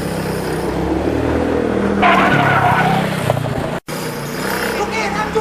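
A car brakes hard and skids with a long, loud tyre scrape and roaring engine noise, the sound shifting midway and briefly cutting out, while voices talk over it.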